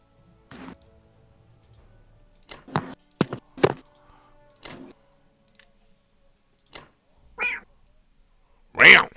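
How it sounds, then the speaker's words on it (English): Loud cat meowing in a room during a tabletop game night of Axis and Allies, several separate meows with gaps between them, the last one loudest and closest, alongside scattered clicks and some talk. "loud cat."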